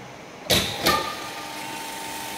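A three-phase induction motor with PLC fault protection starts with two sharp clicks, close together, then settles into a steady, quiet hum with a faint whine.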